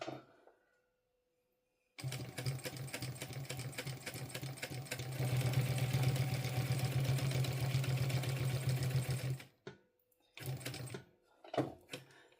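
A sewing machine stitches a bum bag in one long steady run of rapid, even needle chatter after a short pause, stops, then gives a few brief bursts, as if hand-cranked at the corners. The machine is close and there is no talk.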